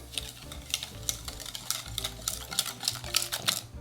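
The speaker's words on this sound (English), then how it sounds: "Mix that in there a little bit." Pecan pie filling with brown sugar is stirred in a bowl, a spoon clicking and scraping against the sides in quick, uneven strokes close up.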